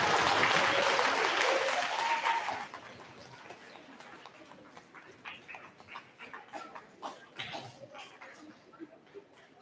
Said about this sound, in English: Let's give all of Mrs. Brickman's award winners a big round of applause